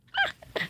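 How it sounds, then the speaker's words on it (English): A dog barks twice in short bursts indoors, close and fairly quiet, with a brief gap between the two yaps. "He's back and he's barking."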